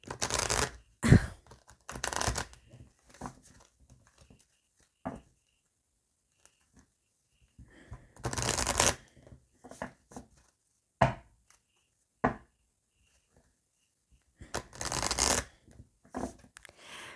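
A deck of tarot cards being shuffled and cut, bursts of riffling and slapping card sounds separated by quiet pauses, close up and alone.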